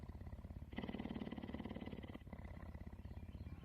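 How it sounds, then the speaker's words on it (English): A domestic cat purrs in a steady, rhythmic low rumble close up, swelling louder in the middle stretch before settling back to a softer, even purr. "The kitty is purring."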